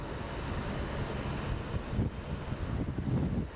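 Strong wind roars across the microphone in a constant, heavy rush while riding a Can-Am motorcycle towing a trailer, buffeting with low thumps throughout.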